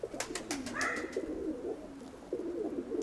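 Pigeons coo softly in a dovecote, with repeated low throaty calls that come in rhythmic phrases and carry on across the clip, close by and alone without voices.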